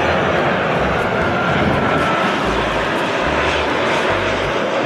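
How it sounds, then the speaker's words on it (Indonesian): Engine drone of a Garuda Indonesia airplane, heard as a toy model, a continuous loud broadband roar with steady low rumble throughout, no talking over it. "ada pesawat terbang Garuda Indonesia."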